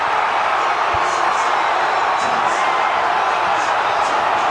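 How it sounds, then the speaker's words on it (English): Stadium crowd roaring after a Bears game-winning deep catch by DJ Moore, a dense, steady wall of cheering noise that holds loud and unbroken throughout. "Listen to the crowd."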